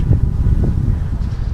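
Gusting wind outdoors on a windy day, a loud low rumbling buffet that presses on the microphone for the whole short stretch, with no talking.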